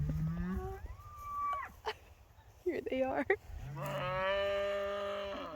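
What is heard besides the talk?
cattle mooing on a farm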